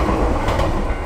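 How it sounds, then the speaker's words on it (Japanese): A short two-car local train rolling into a small rural station in Chichibu, a loud, close, continuous rumble of wheels and carriage noise with no voices. "え、電車来る。"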